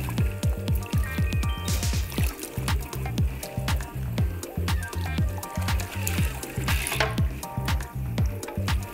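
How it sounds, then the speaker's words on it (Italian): At a salon, water rinses shampoo out of hair with a continuous wet splashing and dripping, heard close under steady background music. "Sciacquiamo molto molto bene, eliminando ogni residuo di shampoo."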